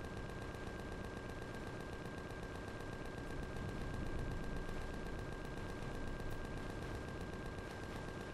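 Sustained automatic gunfire in the Empyrion video game as a base gun turret is attacked, a dense continuous rattle of shots with a steady tone running through it, loud and unbroken.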